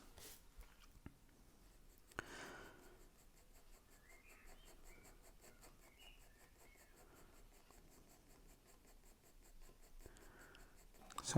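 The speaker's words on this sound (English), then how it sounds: "applying this layer of graphite with my 2B pencil" A Caran d'Ache Grafwood 2B graphite pencil scratches softly across paper while drawing hair, giving faint continuous strokes with a few sharper taps, close and quiet.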